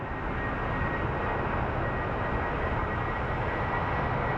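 A Prime Air Boeing 767 cargo jet taxiing at Phoenix Sky Harbor International Airport produces a steady, even engine roar with a thin whine above it, heard from a distance without a break.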